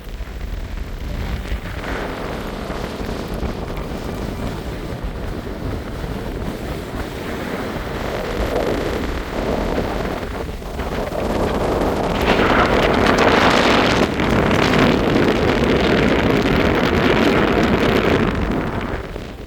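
Strong winter wind buffeting the microphone at the wild summit of Ben Ledi, a continuous roaring rush that swells and gusts louder in the second half, with no voices over it.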